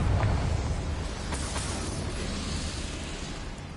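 A Confringo blasting spell goes off in a wizard video game, a dense rumbling explosion that booms loudly at the start and then decays into a long, rolling noisy roar.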